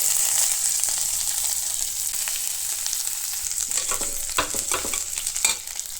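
Cumin, bay leaf and onion fry in mustard oil with a bright, continuous sizzle, close and fairly loud, broken by scattered crackles and stirring scrapes toward the end.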